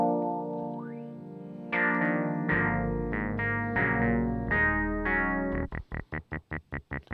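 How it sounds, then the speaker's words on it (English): Yamaha FM-X synth patch run through a filter with resonance turned up until it self-oscillates, giving sustained, ringing tones that shift pitch across several held notes before ending in a rapid run of short, pulsing stabs, played alone. "So if I bring the resonance up, I can get it to self-oscillate like that."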